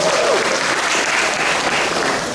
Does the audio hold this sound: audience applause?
yes